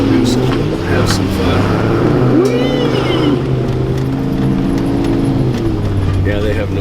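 A vehicle on BFGoodrich T/A KM3 winter tires spins its wheels and slides sideways on snow in two-wheel drive, the engine revving steadily and loudly while people talk over it.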